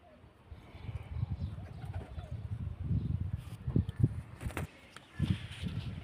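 Soft, low pigeon cooing in irregular bursts close by, with some shuffling and faint movement noise in between.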